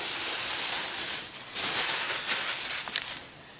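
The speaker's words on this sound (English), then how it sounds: "Let me try pulling most of this plastic off." Plastic protective film peeled off a new Power-fist 7 inch bench mount wet tile saw, a continuous close airy hiss and crinkle that swells in two long pulls before fading.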